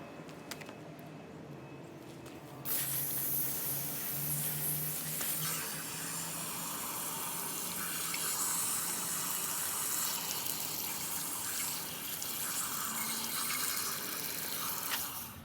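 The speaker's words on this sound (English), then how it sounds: "I'm gonna try to get the water to come out of these holes." Water from a hose or tap gushes through the coolant holes of a Land Rover Series 2A cylinder head during a rebuild, a steady loud rushing spray that starts abruptly and then runs continuously.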